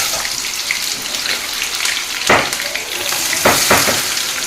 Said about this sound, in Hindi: ନରମ ହେଲା ଯାକେ ଭାଜିବା